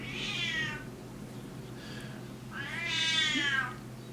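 A house cat lets out two drawn-out meows with a softer one between them, close by over a low steady background hum.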